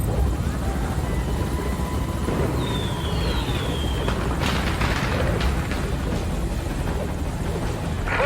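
A helicopter in the video game Metal Gear Solid V thuds continuously with its rotor, loud and close, while a brief whistling sweep and some booming hits rise over the steady drone.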